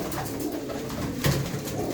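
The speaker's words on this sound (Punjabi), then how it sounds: "ਕਾਲੀਆਂ ਅੱਖਾਂ ਦਾ ਕਬੂਤਰ ਆ" A black-eyed pigeon coos continuously at close range, a low throaty warble that swells briefly midway.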